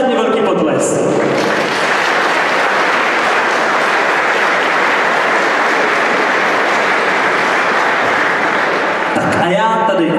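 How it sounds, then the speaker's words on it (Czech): An audience at the Stagra company's 25th anniversary celebration breaks into sustained applause, dense and loud, filling the hall steadily for several seconds after brief voices at the start. "a to si, myslím, zaslouží mimořádně velký potlesk"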